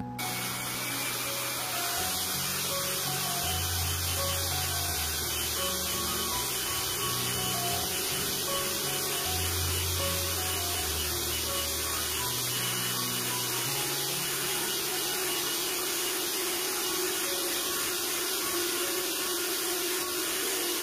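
At top speed, an electric mixer beats batter for a steamed sponge cake with a loud, constant whirring drone. A faint, irregular rumble of the beaters runs in the bowl beneath it, with no pause throughout.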